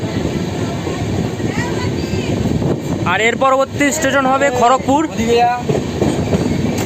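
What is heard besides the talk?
Dhauli Express train entering Santragachi Junction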